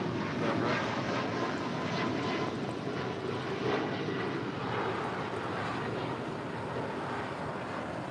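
An airliner roars steadily down runway 25 right on its takeoff run, a broad, even jet rumble heard from a distance with wind buffeting the microphone and no clear speech.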